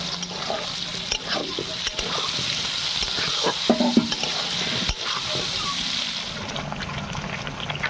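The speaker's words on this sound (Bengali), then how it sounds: "আমি পেঁয়াজটা দিয়ে দিচ্ছি পেঁয়াজের সাথে একেবারে আলুটাও দিয়ে দেবো তাহলে পেঁয়াজ আর আলু একসঙ্গে ভাজা হয়ে যাবে" Onion and potato stir-frying together in a pan, continuous close sizzle with repeated scraping and clinking of the spatula against the pan, no talk.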